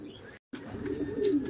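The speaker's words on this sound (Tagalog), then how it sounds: "Guys, papapasukin na natin yung mga ibon natin." Pigeons coo and murmur softly inside a loft, a close, continuous low cooing with a few brief chirps and a short gap of silence.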